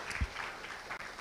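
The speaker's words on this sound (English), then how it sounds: "So please join me in giving applause for the speakers again." A conference audience at a law and governance event applauding the speakers, a brief burst of dense clapping heard at moderate distance with no talk.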